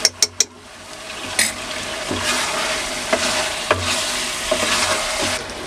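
Chicken stew being stirred in a frying pan, with a few sharp spoon knocks at the start, then a steady sizzle and occasional scraping clinks against the pan, close and fairly loud.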